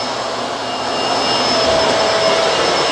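A Bissell Multi Clean Allergen Pet vacuum cleaner runs steadily and loud, a continuous whirring motor roar with a faint high whine, growing slightly louder partway through, with no talking.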